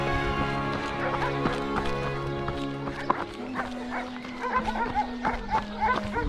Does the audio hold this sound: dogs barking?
yes